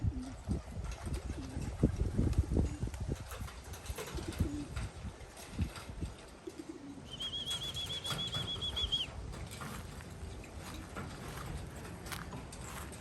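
A flock of racing homing pigeons on a training day bursts into flight with a flurry of flapping wings. Heavy fluttering and scuffing near the start fades into quieter outdoor ambience, and a thin high tone appears briefly.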